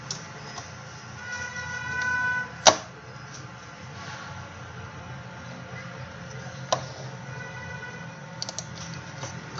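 Computer keys are tapped in an Excel session, a scattering of light clicks with one sharper keystroke standing out, over a soft steady background hum.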